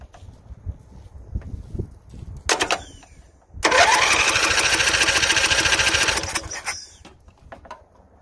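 A Toro 13-38 HXL garden tractor engine cranks in short bursts, then catches and runs at a steady, loud mid-pitched drone for about three seconds before cutting out to faint clicks.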